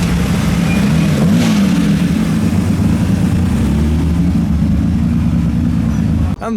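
The engine of a low-drag classic car drones loudly as it drives in at a classic car show. The steady engine note rises and falls slightly and is cut off abruptly at the end.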